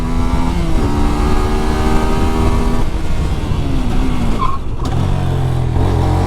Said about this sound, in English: I'm going to try braking really hard over there.